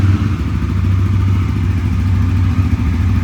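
A Honda CBR motorcycle engine runs after a cold start, a loud, close, steady idle with a deep low rumble and slight mechanical clatter, no voices.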